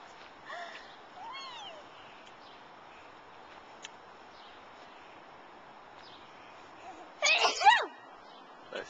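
A single sharp sneeze bursts out near the end from a woman outdoors by a swing, loud against quiet background rustle and faint bird chirps, with brief distant voices earlier.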